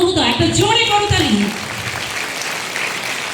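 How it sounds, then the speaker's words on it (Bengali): An audience applauds at a school board golden jubilee ceremony, a burst of clapping that follows a voice over a public address system and then settles into a softer, steady patter. "একটা জোরে করতালি"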